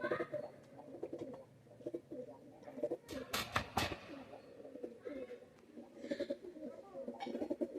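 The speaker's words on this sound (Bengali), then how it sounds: "কামাগার একটা নর কবুতর," Pet Kaldom pigeons coo softly and repeatedly close by, their low throaty calls rising and falling with faint background noises between them.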